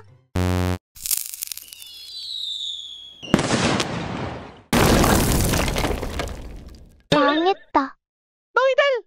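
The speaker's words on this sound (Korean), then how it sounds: "다음 클라이맥스, 폭죽 시간이다" Two long, loud bursts of crackling firework explosions, set among short sound effects and brief voice-like squeals.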